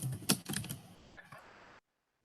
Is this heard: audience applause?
no